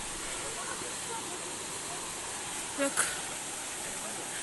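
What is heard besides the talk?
waterfall at Ourika, Morocco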